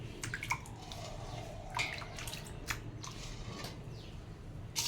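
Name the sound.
water washing dal husks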